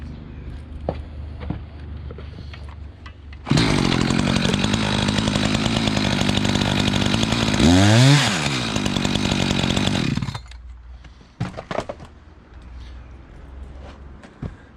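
A chainsaw roars at full throttle for about seven seconds while cutting through a firewood log, with the pitch dipping as the chain bites, then drops to idle among scattered knocks and footsteps.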